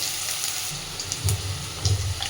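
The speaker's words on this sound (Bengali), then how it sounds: "ভালোভাবে এবার এগুলোকে একটু ভেজে নেব" Onions frying in a pan with salt to be added, giving a steady broadband sizzle with low rumbling swells and a few faint scrapes, close and continuous, no talking.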